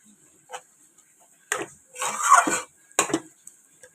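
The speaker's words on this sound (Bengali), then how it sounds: "ওটাকে নেড়ে চেড়ে নিচ্ছি" Fried prawns are stirred in a pan, heard as a few separate metallic scrapes and clinks of a utensil, with one longer scrape in the middle, against near silence.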